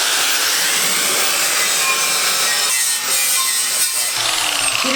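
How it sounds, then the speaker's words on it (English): Close, loud, continuous scrubbing rasp of a spinning wire brush wheel on a power tool working over wood during a hot tub build, harsh and steady with no talk. "Ah, the wire brush. The spinny wheel of death."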